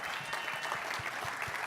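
An audience at an executive summit applauds a pair of birthday twins, a steady wash of clapping from many hands at a moderate distance, with no one speaking.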